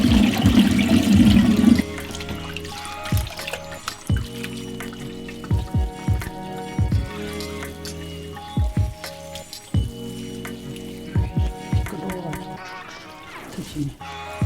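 Food rinsed under a running tap in a kitchen sink, with steady splashing water and intermittent drips and knocks, fairly close and alone without talk.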